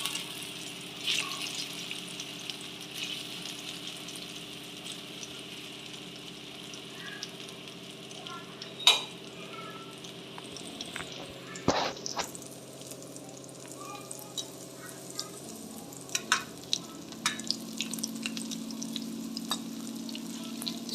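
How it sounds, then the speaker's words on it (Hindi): Colocasia leaf pieces shallow-frying in a little hot oil over a low flame, giving a soft, steady sizzle that runs throughout, with scattered utensil clicks and a few sharper taps. "तेल गरम हो गया है, अब इसको फ्राई कर लेती हूँ। इसको धीमी आंच में सेकना है"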